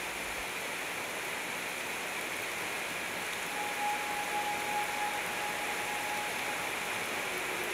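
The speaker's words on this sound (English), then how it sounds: "Sentinel Rock is a spectacular 52-foot-tall, two-tier waterfall that Brian named after the lone rock in the" Sentinel Rock, a 52-foot, two-tier waterfall in Arkansas, pours as a steady, dense broadband roar, unbroken and fairly close, with a faint thin tone drifting in partway through and no voices.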